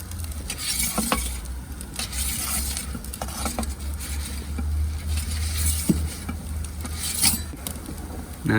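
A pepperoni pizza sizzles and pops in a hot oven, a steady low crackle with scattered sharp pops and an occasional faint metallic clink, close and unvoiced.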